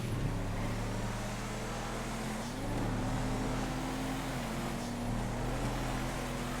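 Executioner car driving in GTA FiveM, engine droning steadily with gear shifts and small pitch changes as it accelerates, faint and continuous without speech.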